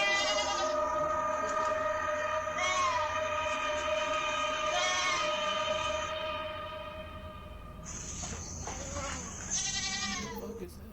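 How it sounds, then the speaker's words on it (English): Goats in a pen bleat loudly and repeatedly at night, their cries overlapping in bursts against a steady background drone, while a narrator talks over them. "the goats are making loads of noise as the owners get closer"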